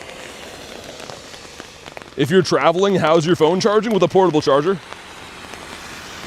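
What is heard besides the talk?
rain falling outside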